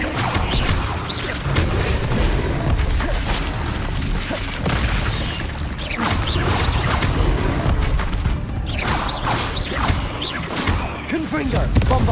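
Spell blasts in the Hogwarts Legacy video game go off as repeated loud booms and crashing impacts in quick succession, mixed with a voice calling out spells throughout.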